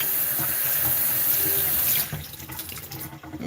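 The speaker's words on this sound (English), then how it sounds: "Sorry for all that water sound." A kitchen sink tap runs, a loud steady gush of water that stops abruptly about two seconds in, leaving quieter drips and splashes of water in the basin.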